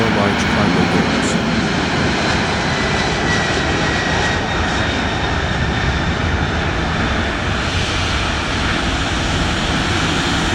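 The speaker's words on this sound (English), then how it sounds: "Cargo aircraft are fixed-wing aircraft designed or converted to transport goods instead of passengers." Cargo aircraft engine droning in a steady, loud, broadband roar that continues unchanged throughout, with a voice talking over it.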